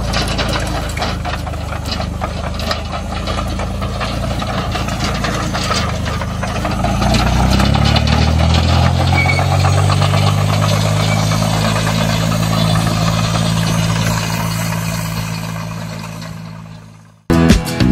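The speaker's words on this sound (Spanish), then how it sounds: "No importa que sea un motor de motocicleta, en sí la succión que genera el motor solito va demandando la gasolina que ocupa." A motorcycle engine fitted with a Japanese carburetor runs steadily, a rough, knocking idle that deepens and swells after a few seconds, holds a loud even drone close by, then fades out abruptly; no talk.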